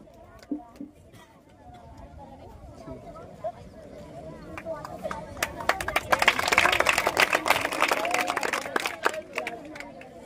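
An audience at a school sports day event claps in welcome, the applause swelling to a dense burst of claps after a stretch of talk over the crowd.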